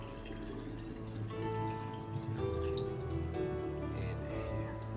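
Vodka pours into a glass infusion bottle in a kitchen, a steady close trickle of liquid running for several seconds with no talking.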